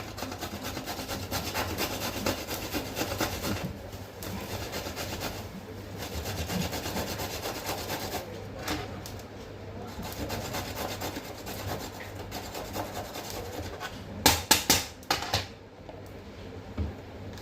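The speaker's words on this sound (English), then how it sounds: "Grate some coconut to garnish." Fresh coconut grated by hand as a garnish for corn bhutte ki khees, a steady close rasping scrape that runs continuously, with a few sharper clattering strokes near the end.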